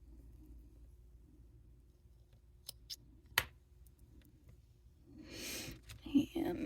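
Scissors snip the cord ends of a handmade Halloween beaded bracelet, giving a few small, close, quiet clicks and cuts, with soft handling noise and rustling near the end.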